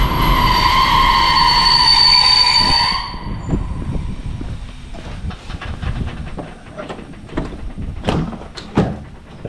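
A train pulls into a rural Bulgarian railway station, with loud screeching brakes for the first few seconds, then rumbling and clattering wagons with sharp metallic clanks as it slows, no voices.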